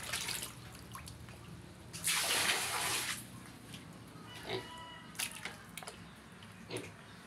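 Water is poured for pigs, with a short burst of splashing amid drips and trickles, and faint animal sounds and quiet background noise around it.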